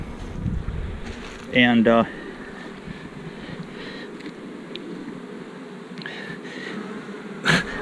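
Killer bees buzzing around a boxed hive, a faint steady hum under wind noise, with someone talking briefly.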